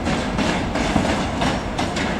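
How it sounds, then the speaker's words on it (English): An Intercity 125 HST set led by power car 43125 rolls into Edinburgh Waverley, wheels clattering in a steady clickety-clack rhythm over rail joints with a continuous loud rumble throughout. "we have an Intercity 125 coming in"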